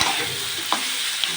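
Frying pieces being stirred in a pan, a continuous sizzle with a couple of short scraping stirs of the utensil against the metal.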